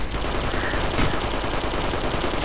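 Heavy sustained automatic gunfire in the military shooter Operation Flashpoint: Red River, a dense, loud, unbroken rattle of rounds filling the whole stretch.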